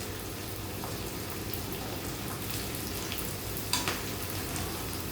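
A steady, dense sizzle of bhut jolokia chili pickle frying in a hot pan, continuous and even throughout, with no voices.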